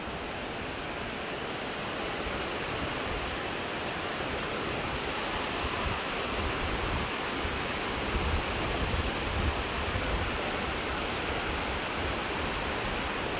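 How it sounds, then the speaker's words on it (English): A waterfall at the Wind Caves in Wyoming roars as a steady, dense rush of water, continuous and even throughout with no voices. "But this waterfall runs pretty rampant"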